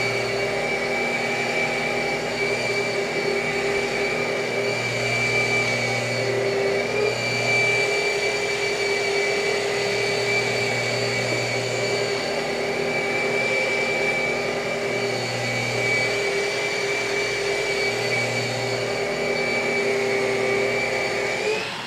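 A rotary buffer polishes car paint with a pad, compounding and jeweling the finish, giving a steady close whir with a low hum that rises and falls slightly as the pad moves, without talk throughout.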